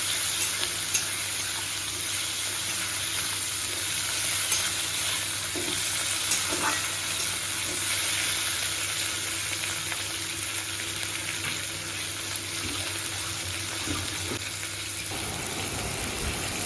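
Tomatoes frying with onion and chilli in a pan, a steady close sizzle running throughout with a few faint scrapes of stirring.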